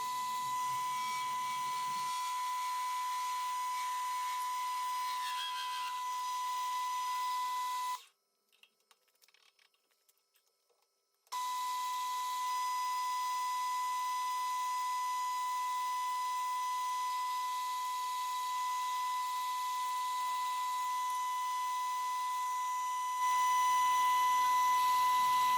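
A metal lathe turns down the shank of a slitting saw to 8 millimetres, giving a steady high machining whine that cuts out briefly partway through, then resumes and runs on.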